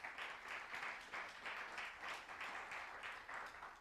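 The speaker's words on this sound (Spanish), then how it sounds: "Denle un aplauso al Señor." A church congregation claps for the Lord, a steady crowd applause with rhythmic pulses swelling roughly twice per second, moderately distant and without speech.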